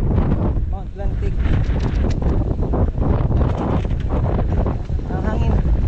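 Strong wind buffeting a microphone on a mountain trail at Mount Atlantic in Batangas during a 10 km road-to-trail run, a steady loud rumble that continues under a person's speech throughout.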